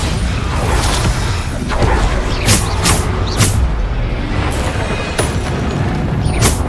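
Repeated Bombarda spell explosions in Hogwarts Legacy, a string of sharp booming blasts with whooshing bursts every second or so, loud and close over a continuous rumble of combat.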